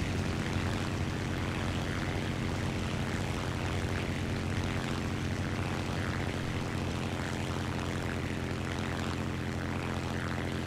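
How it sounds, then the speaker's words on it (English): Steady, loud propeller-plane engine drone from a German aircraft in War Thunder arcade battle, a continuous harmonic hum holding level throughout with no talk. "God, this prop plane is so slow!"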